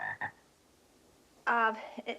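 A pet frog in a classroom croaks in two bursts, a short one at first and then a louder, longer, tonal croak after a pause, close and clear with no talk over it.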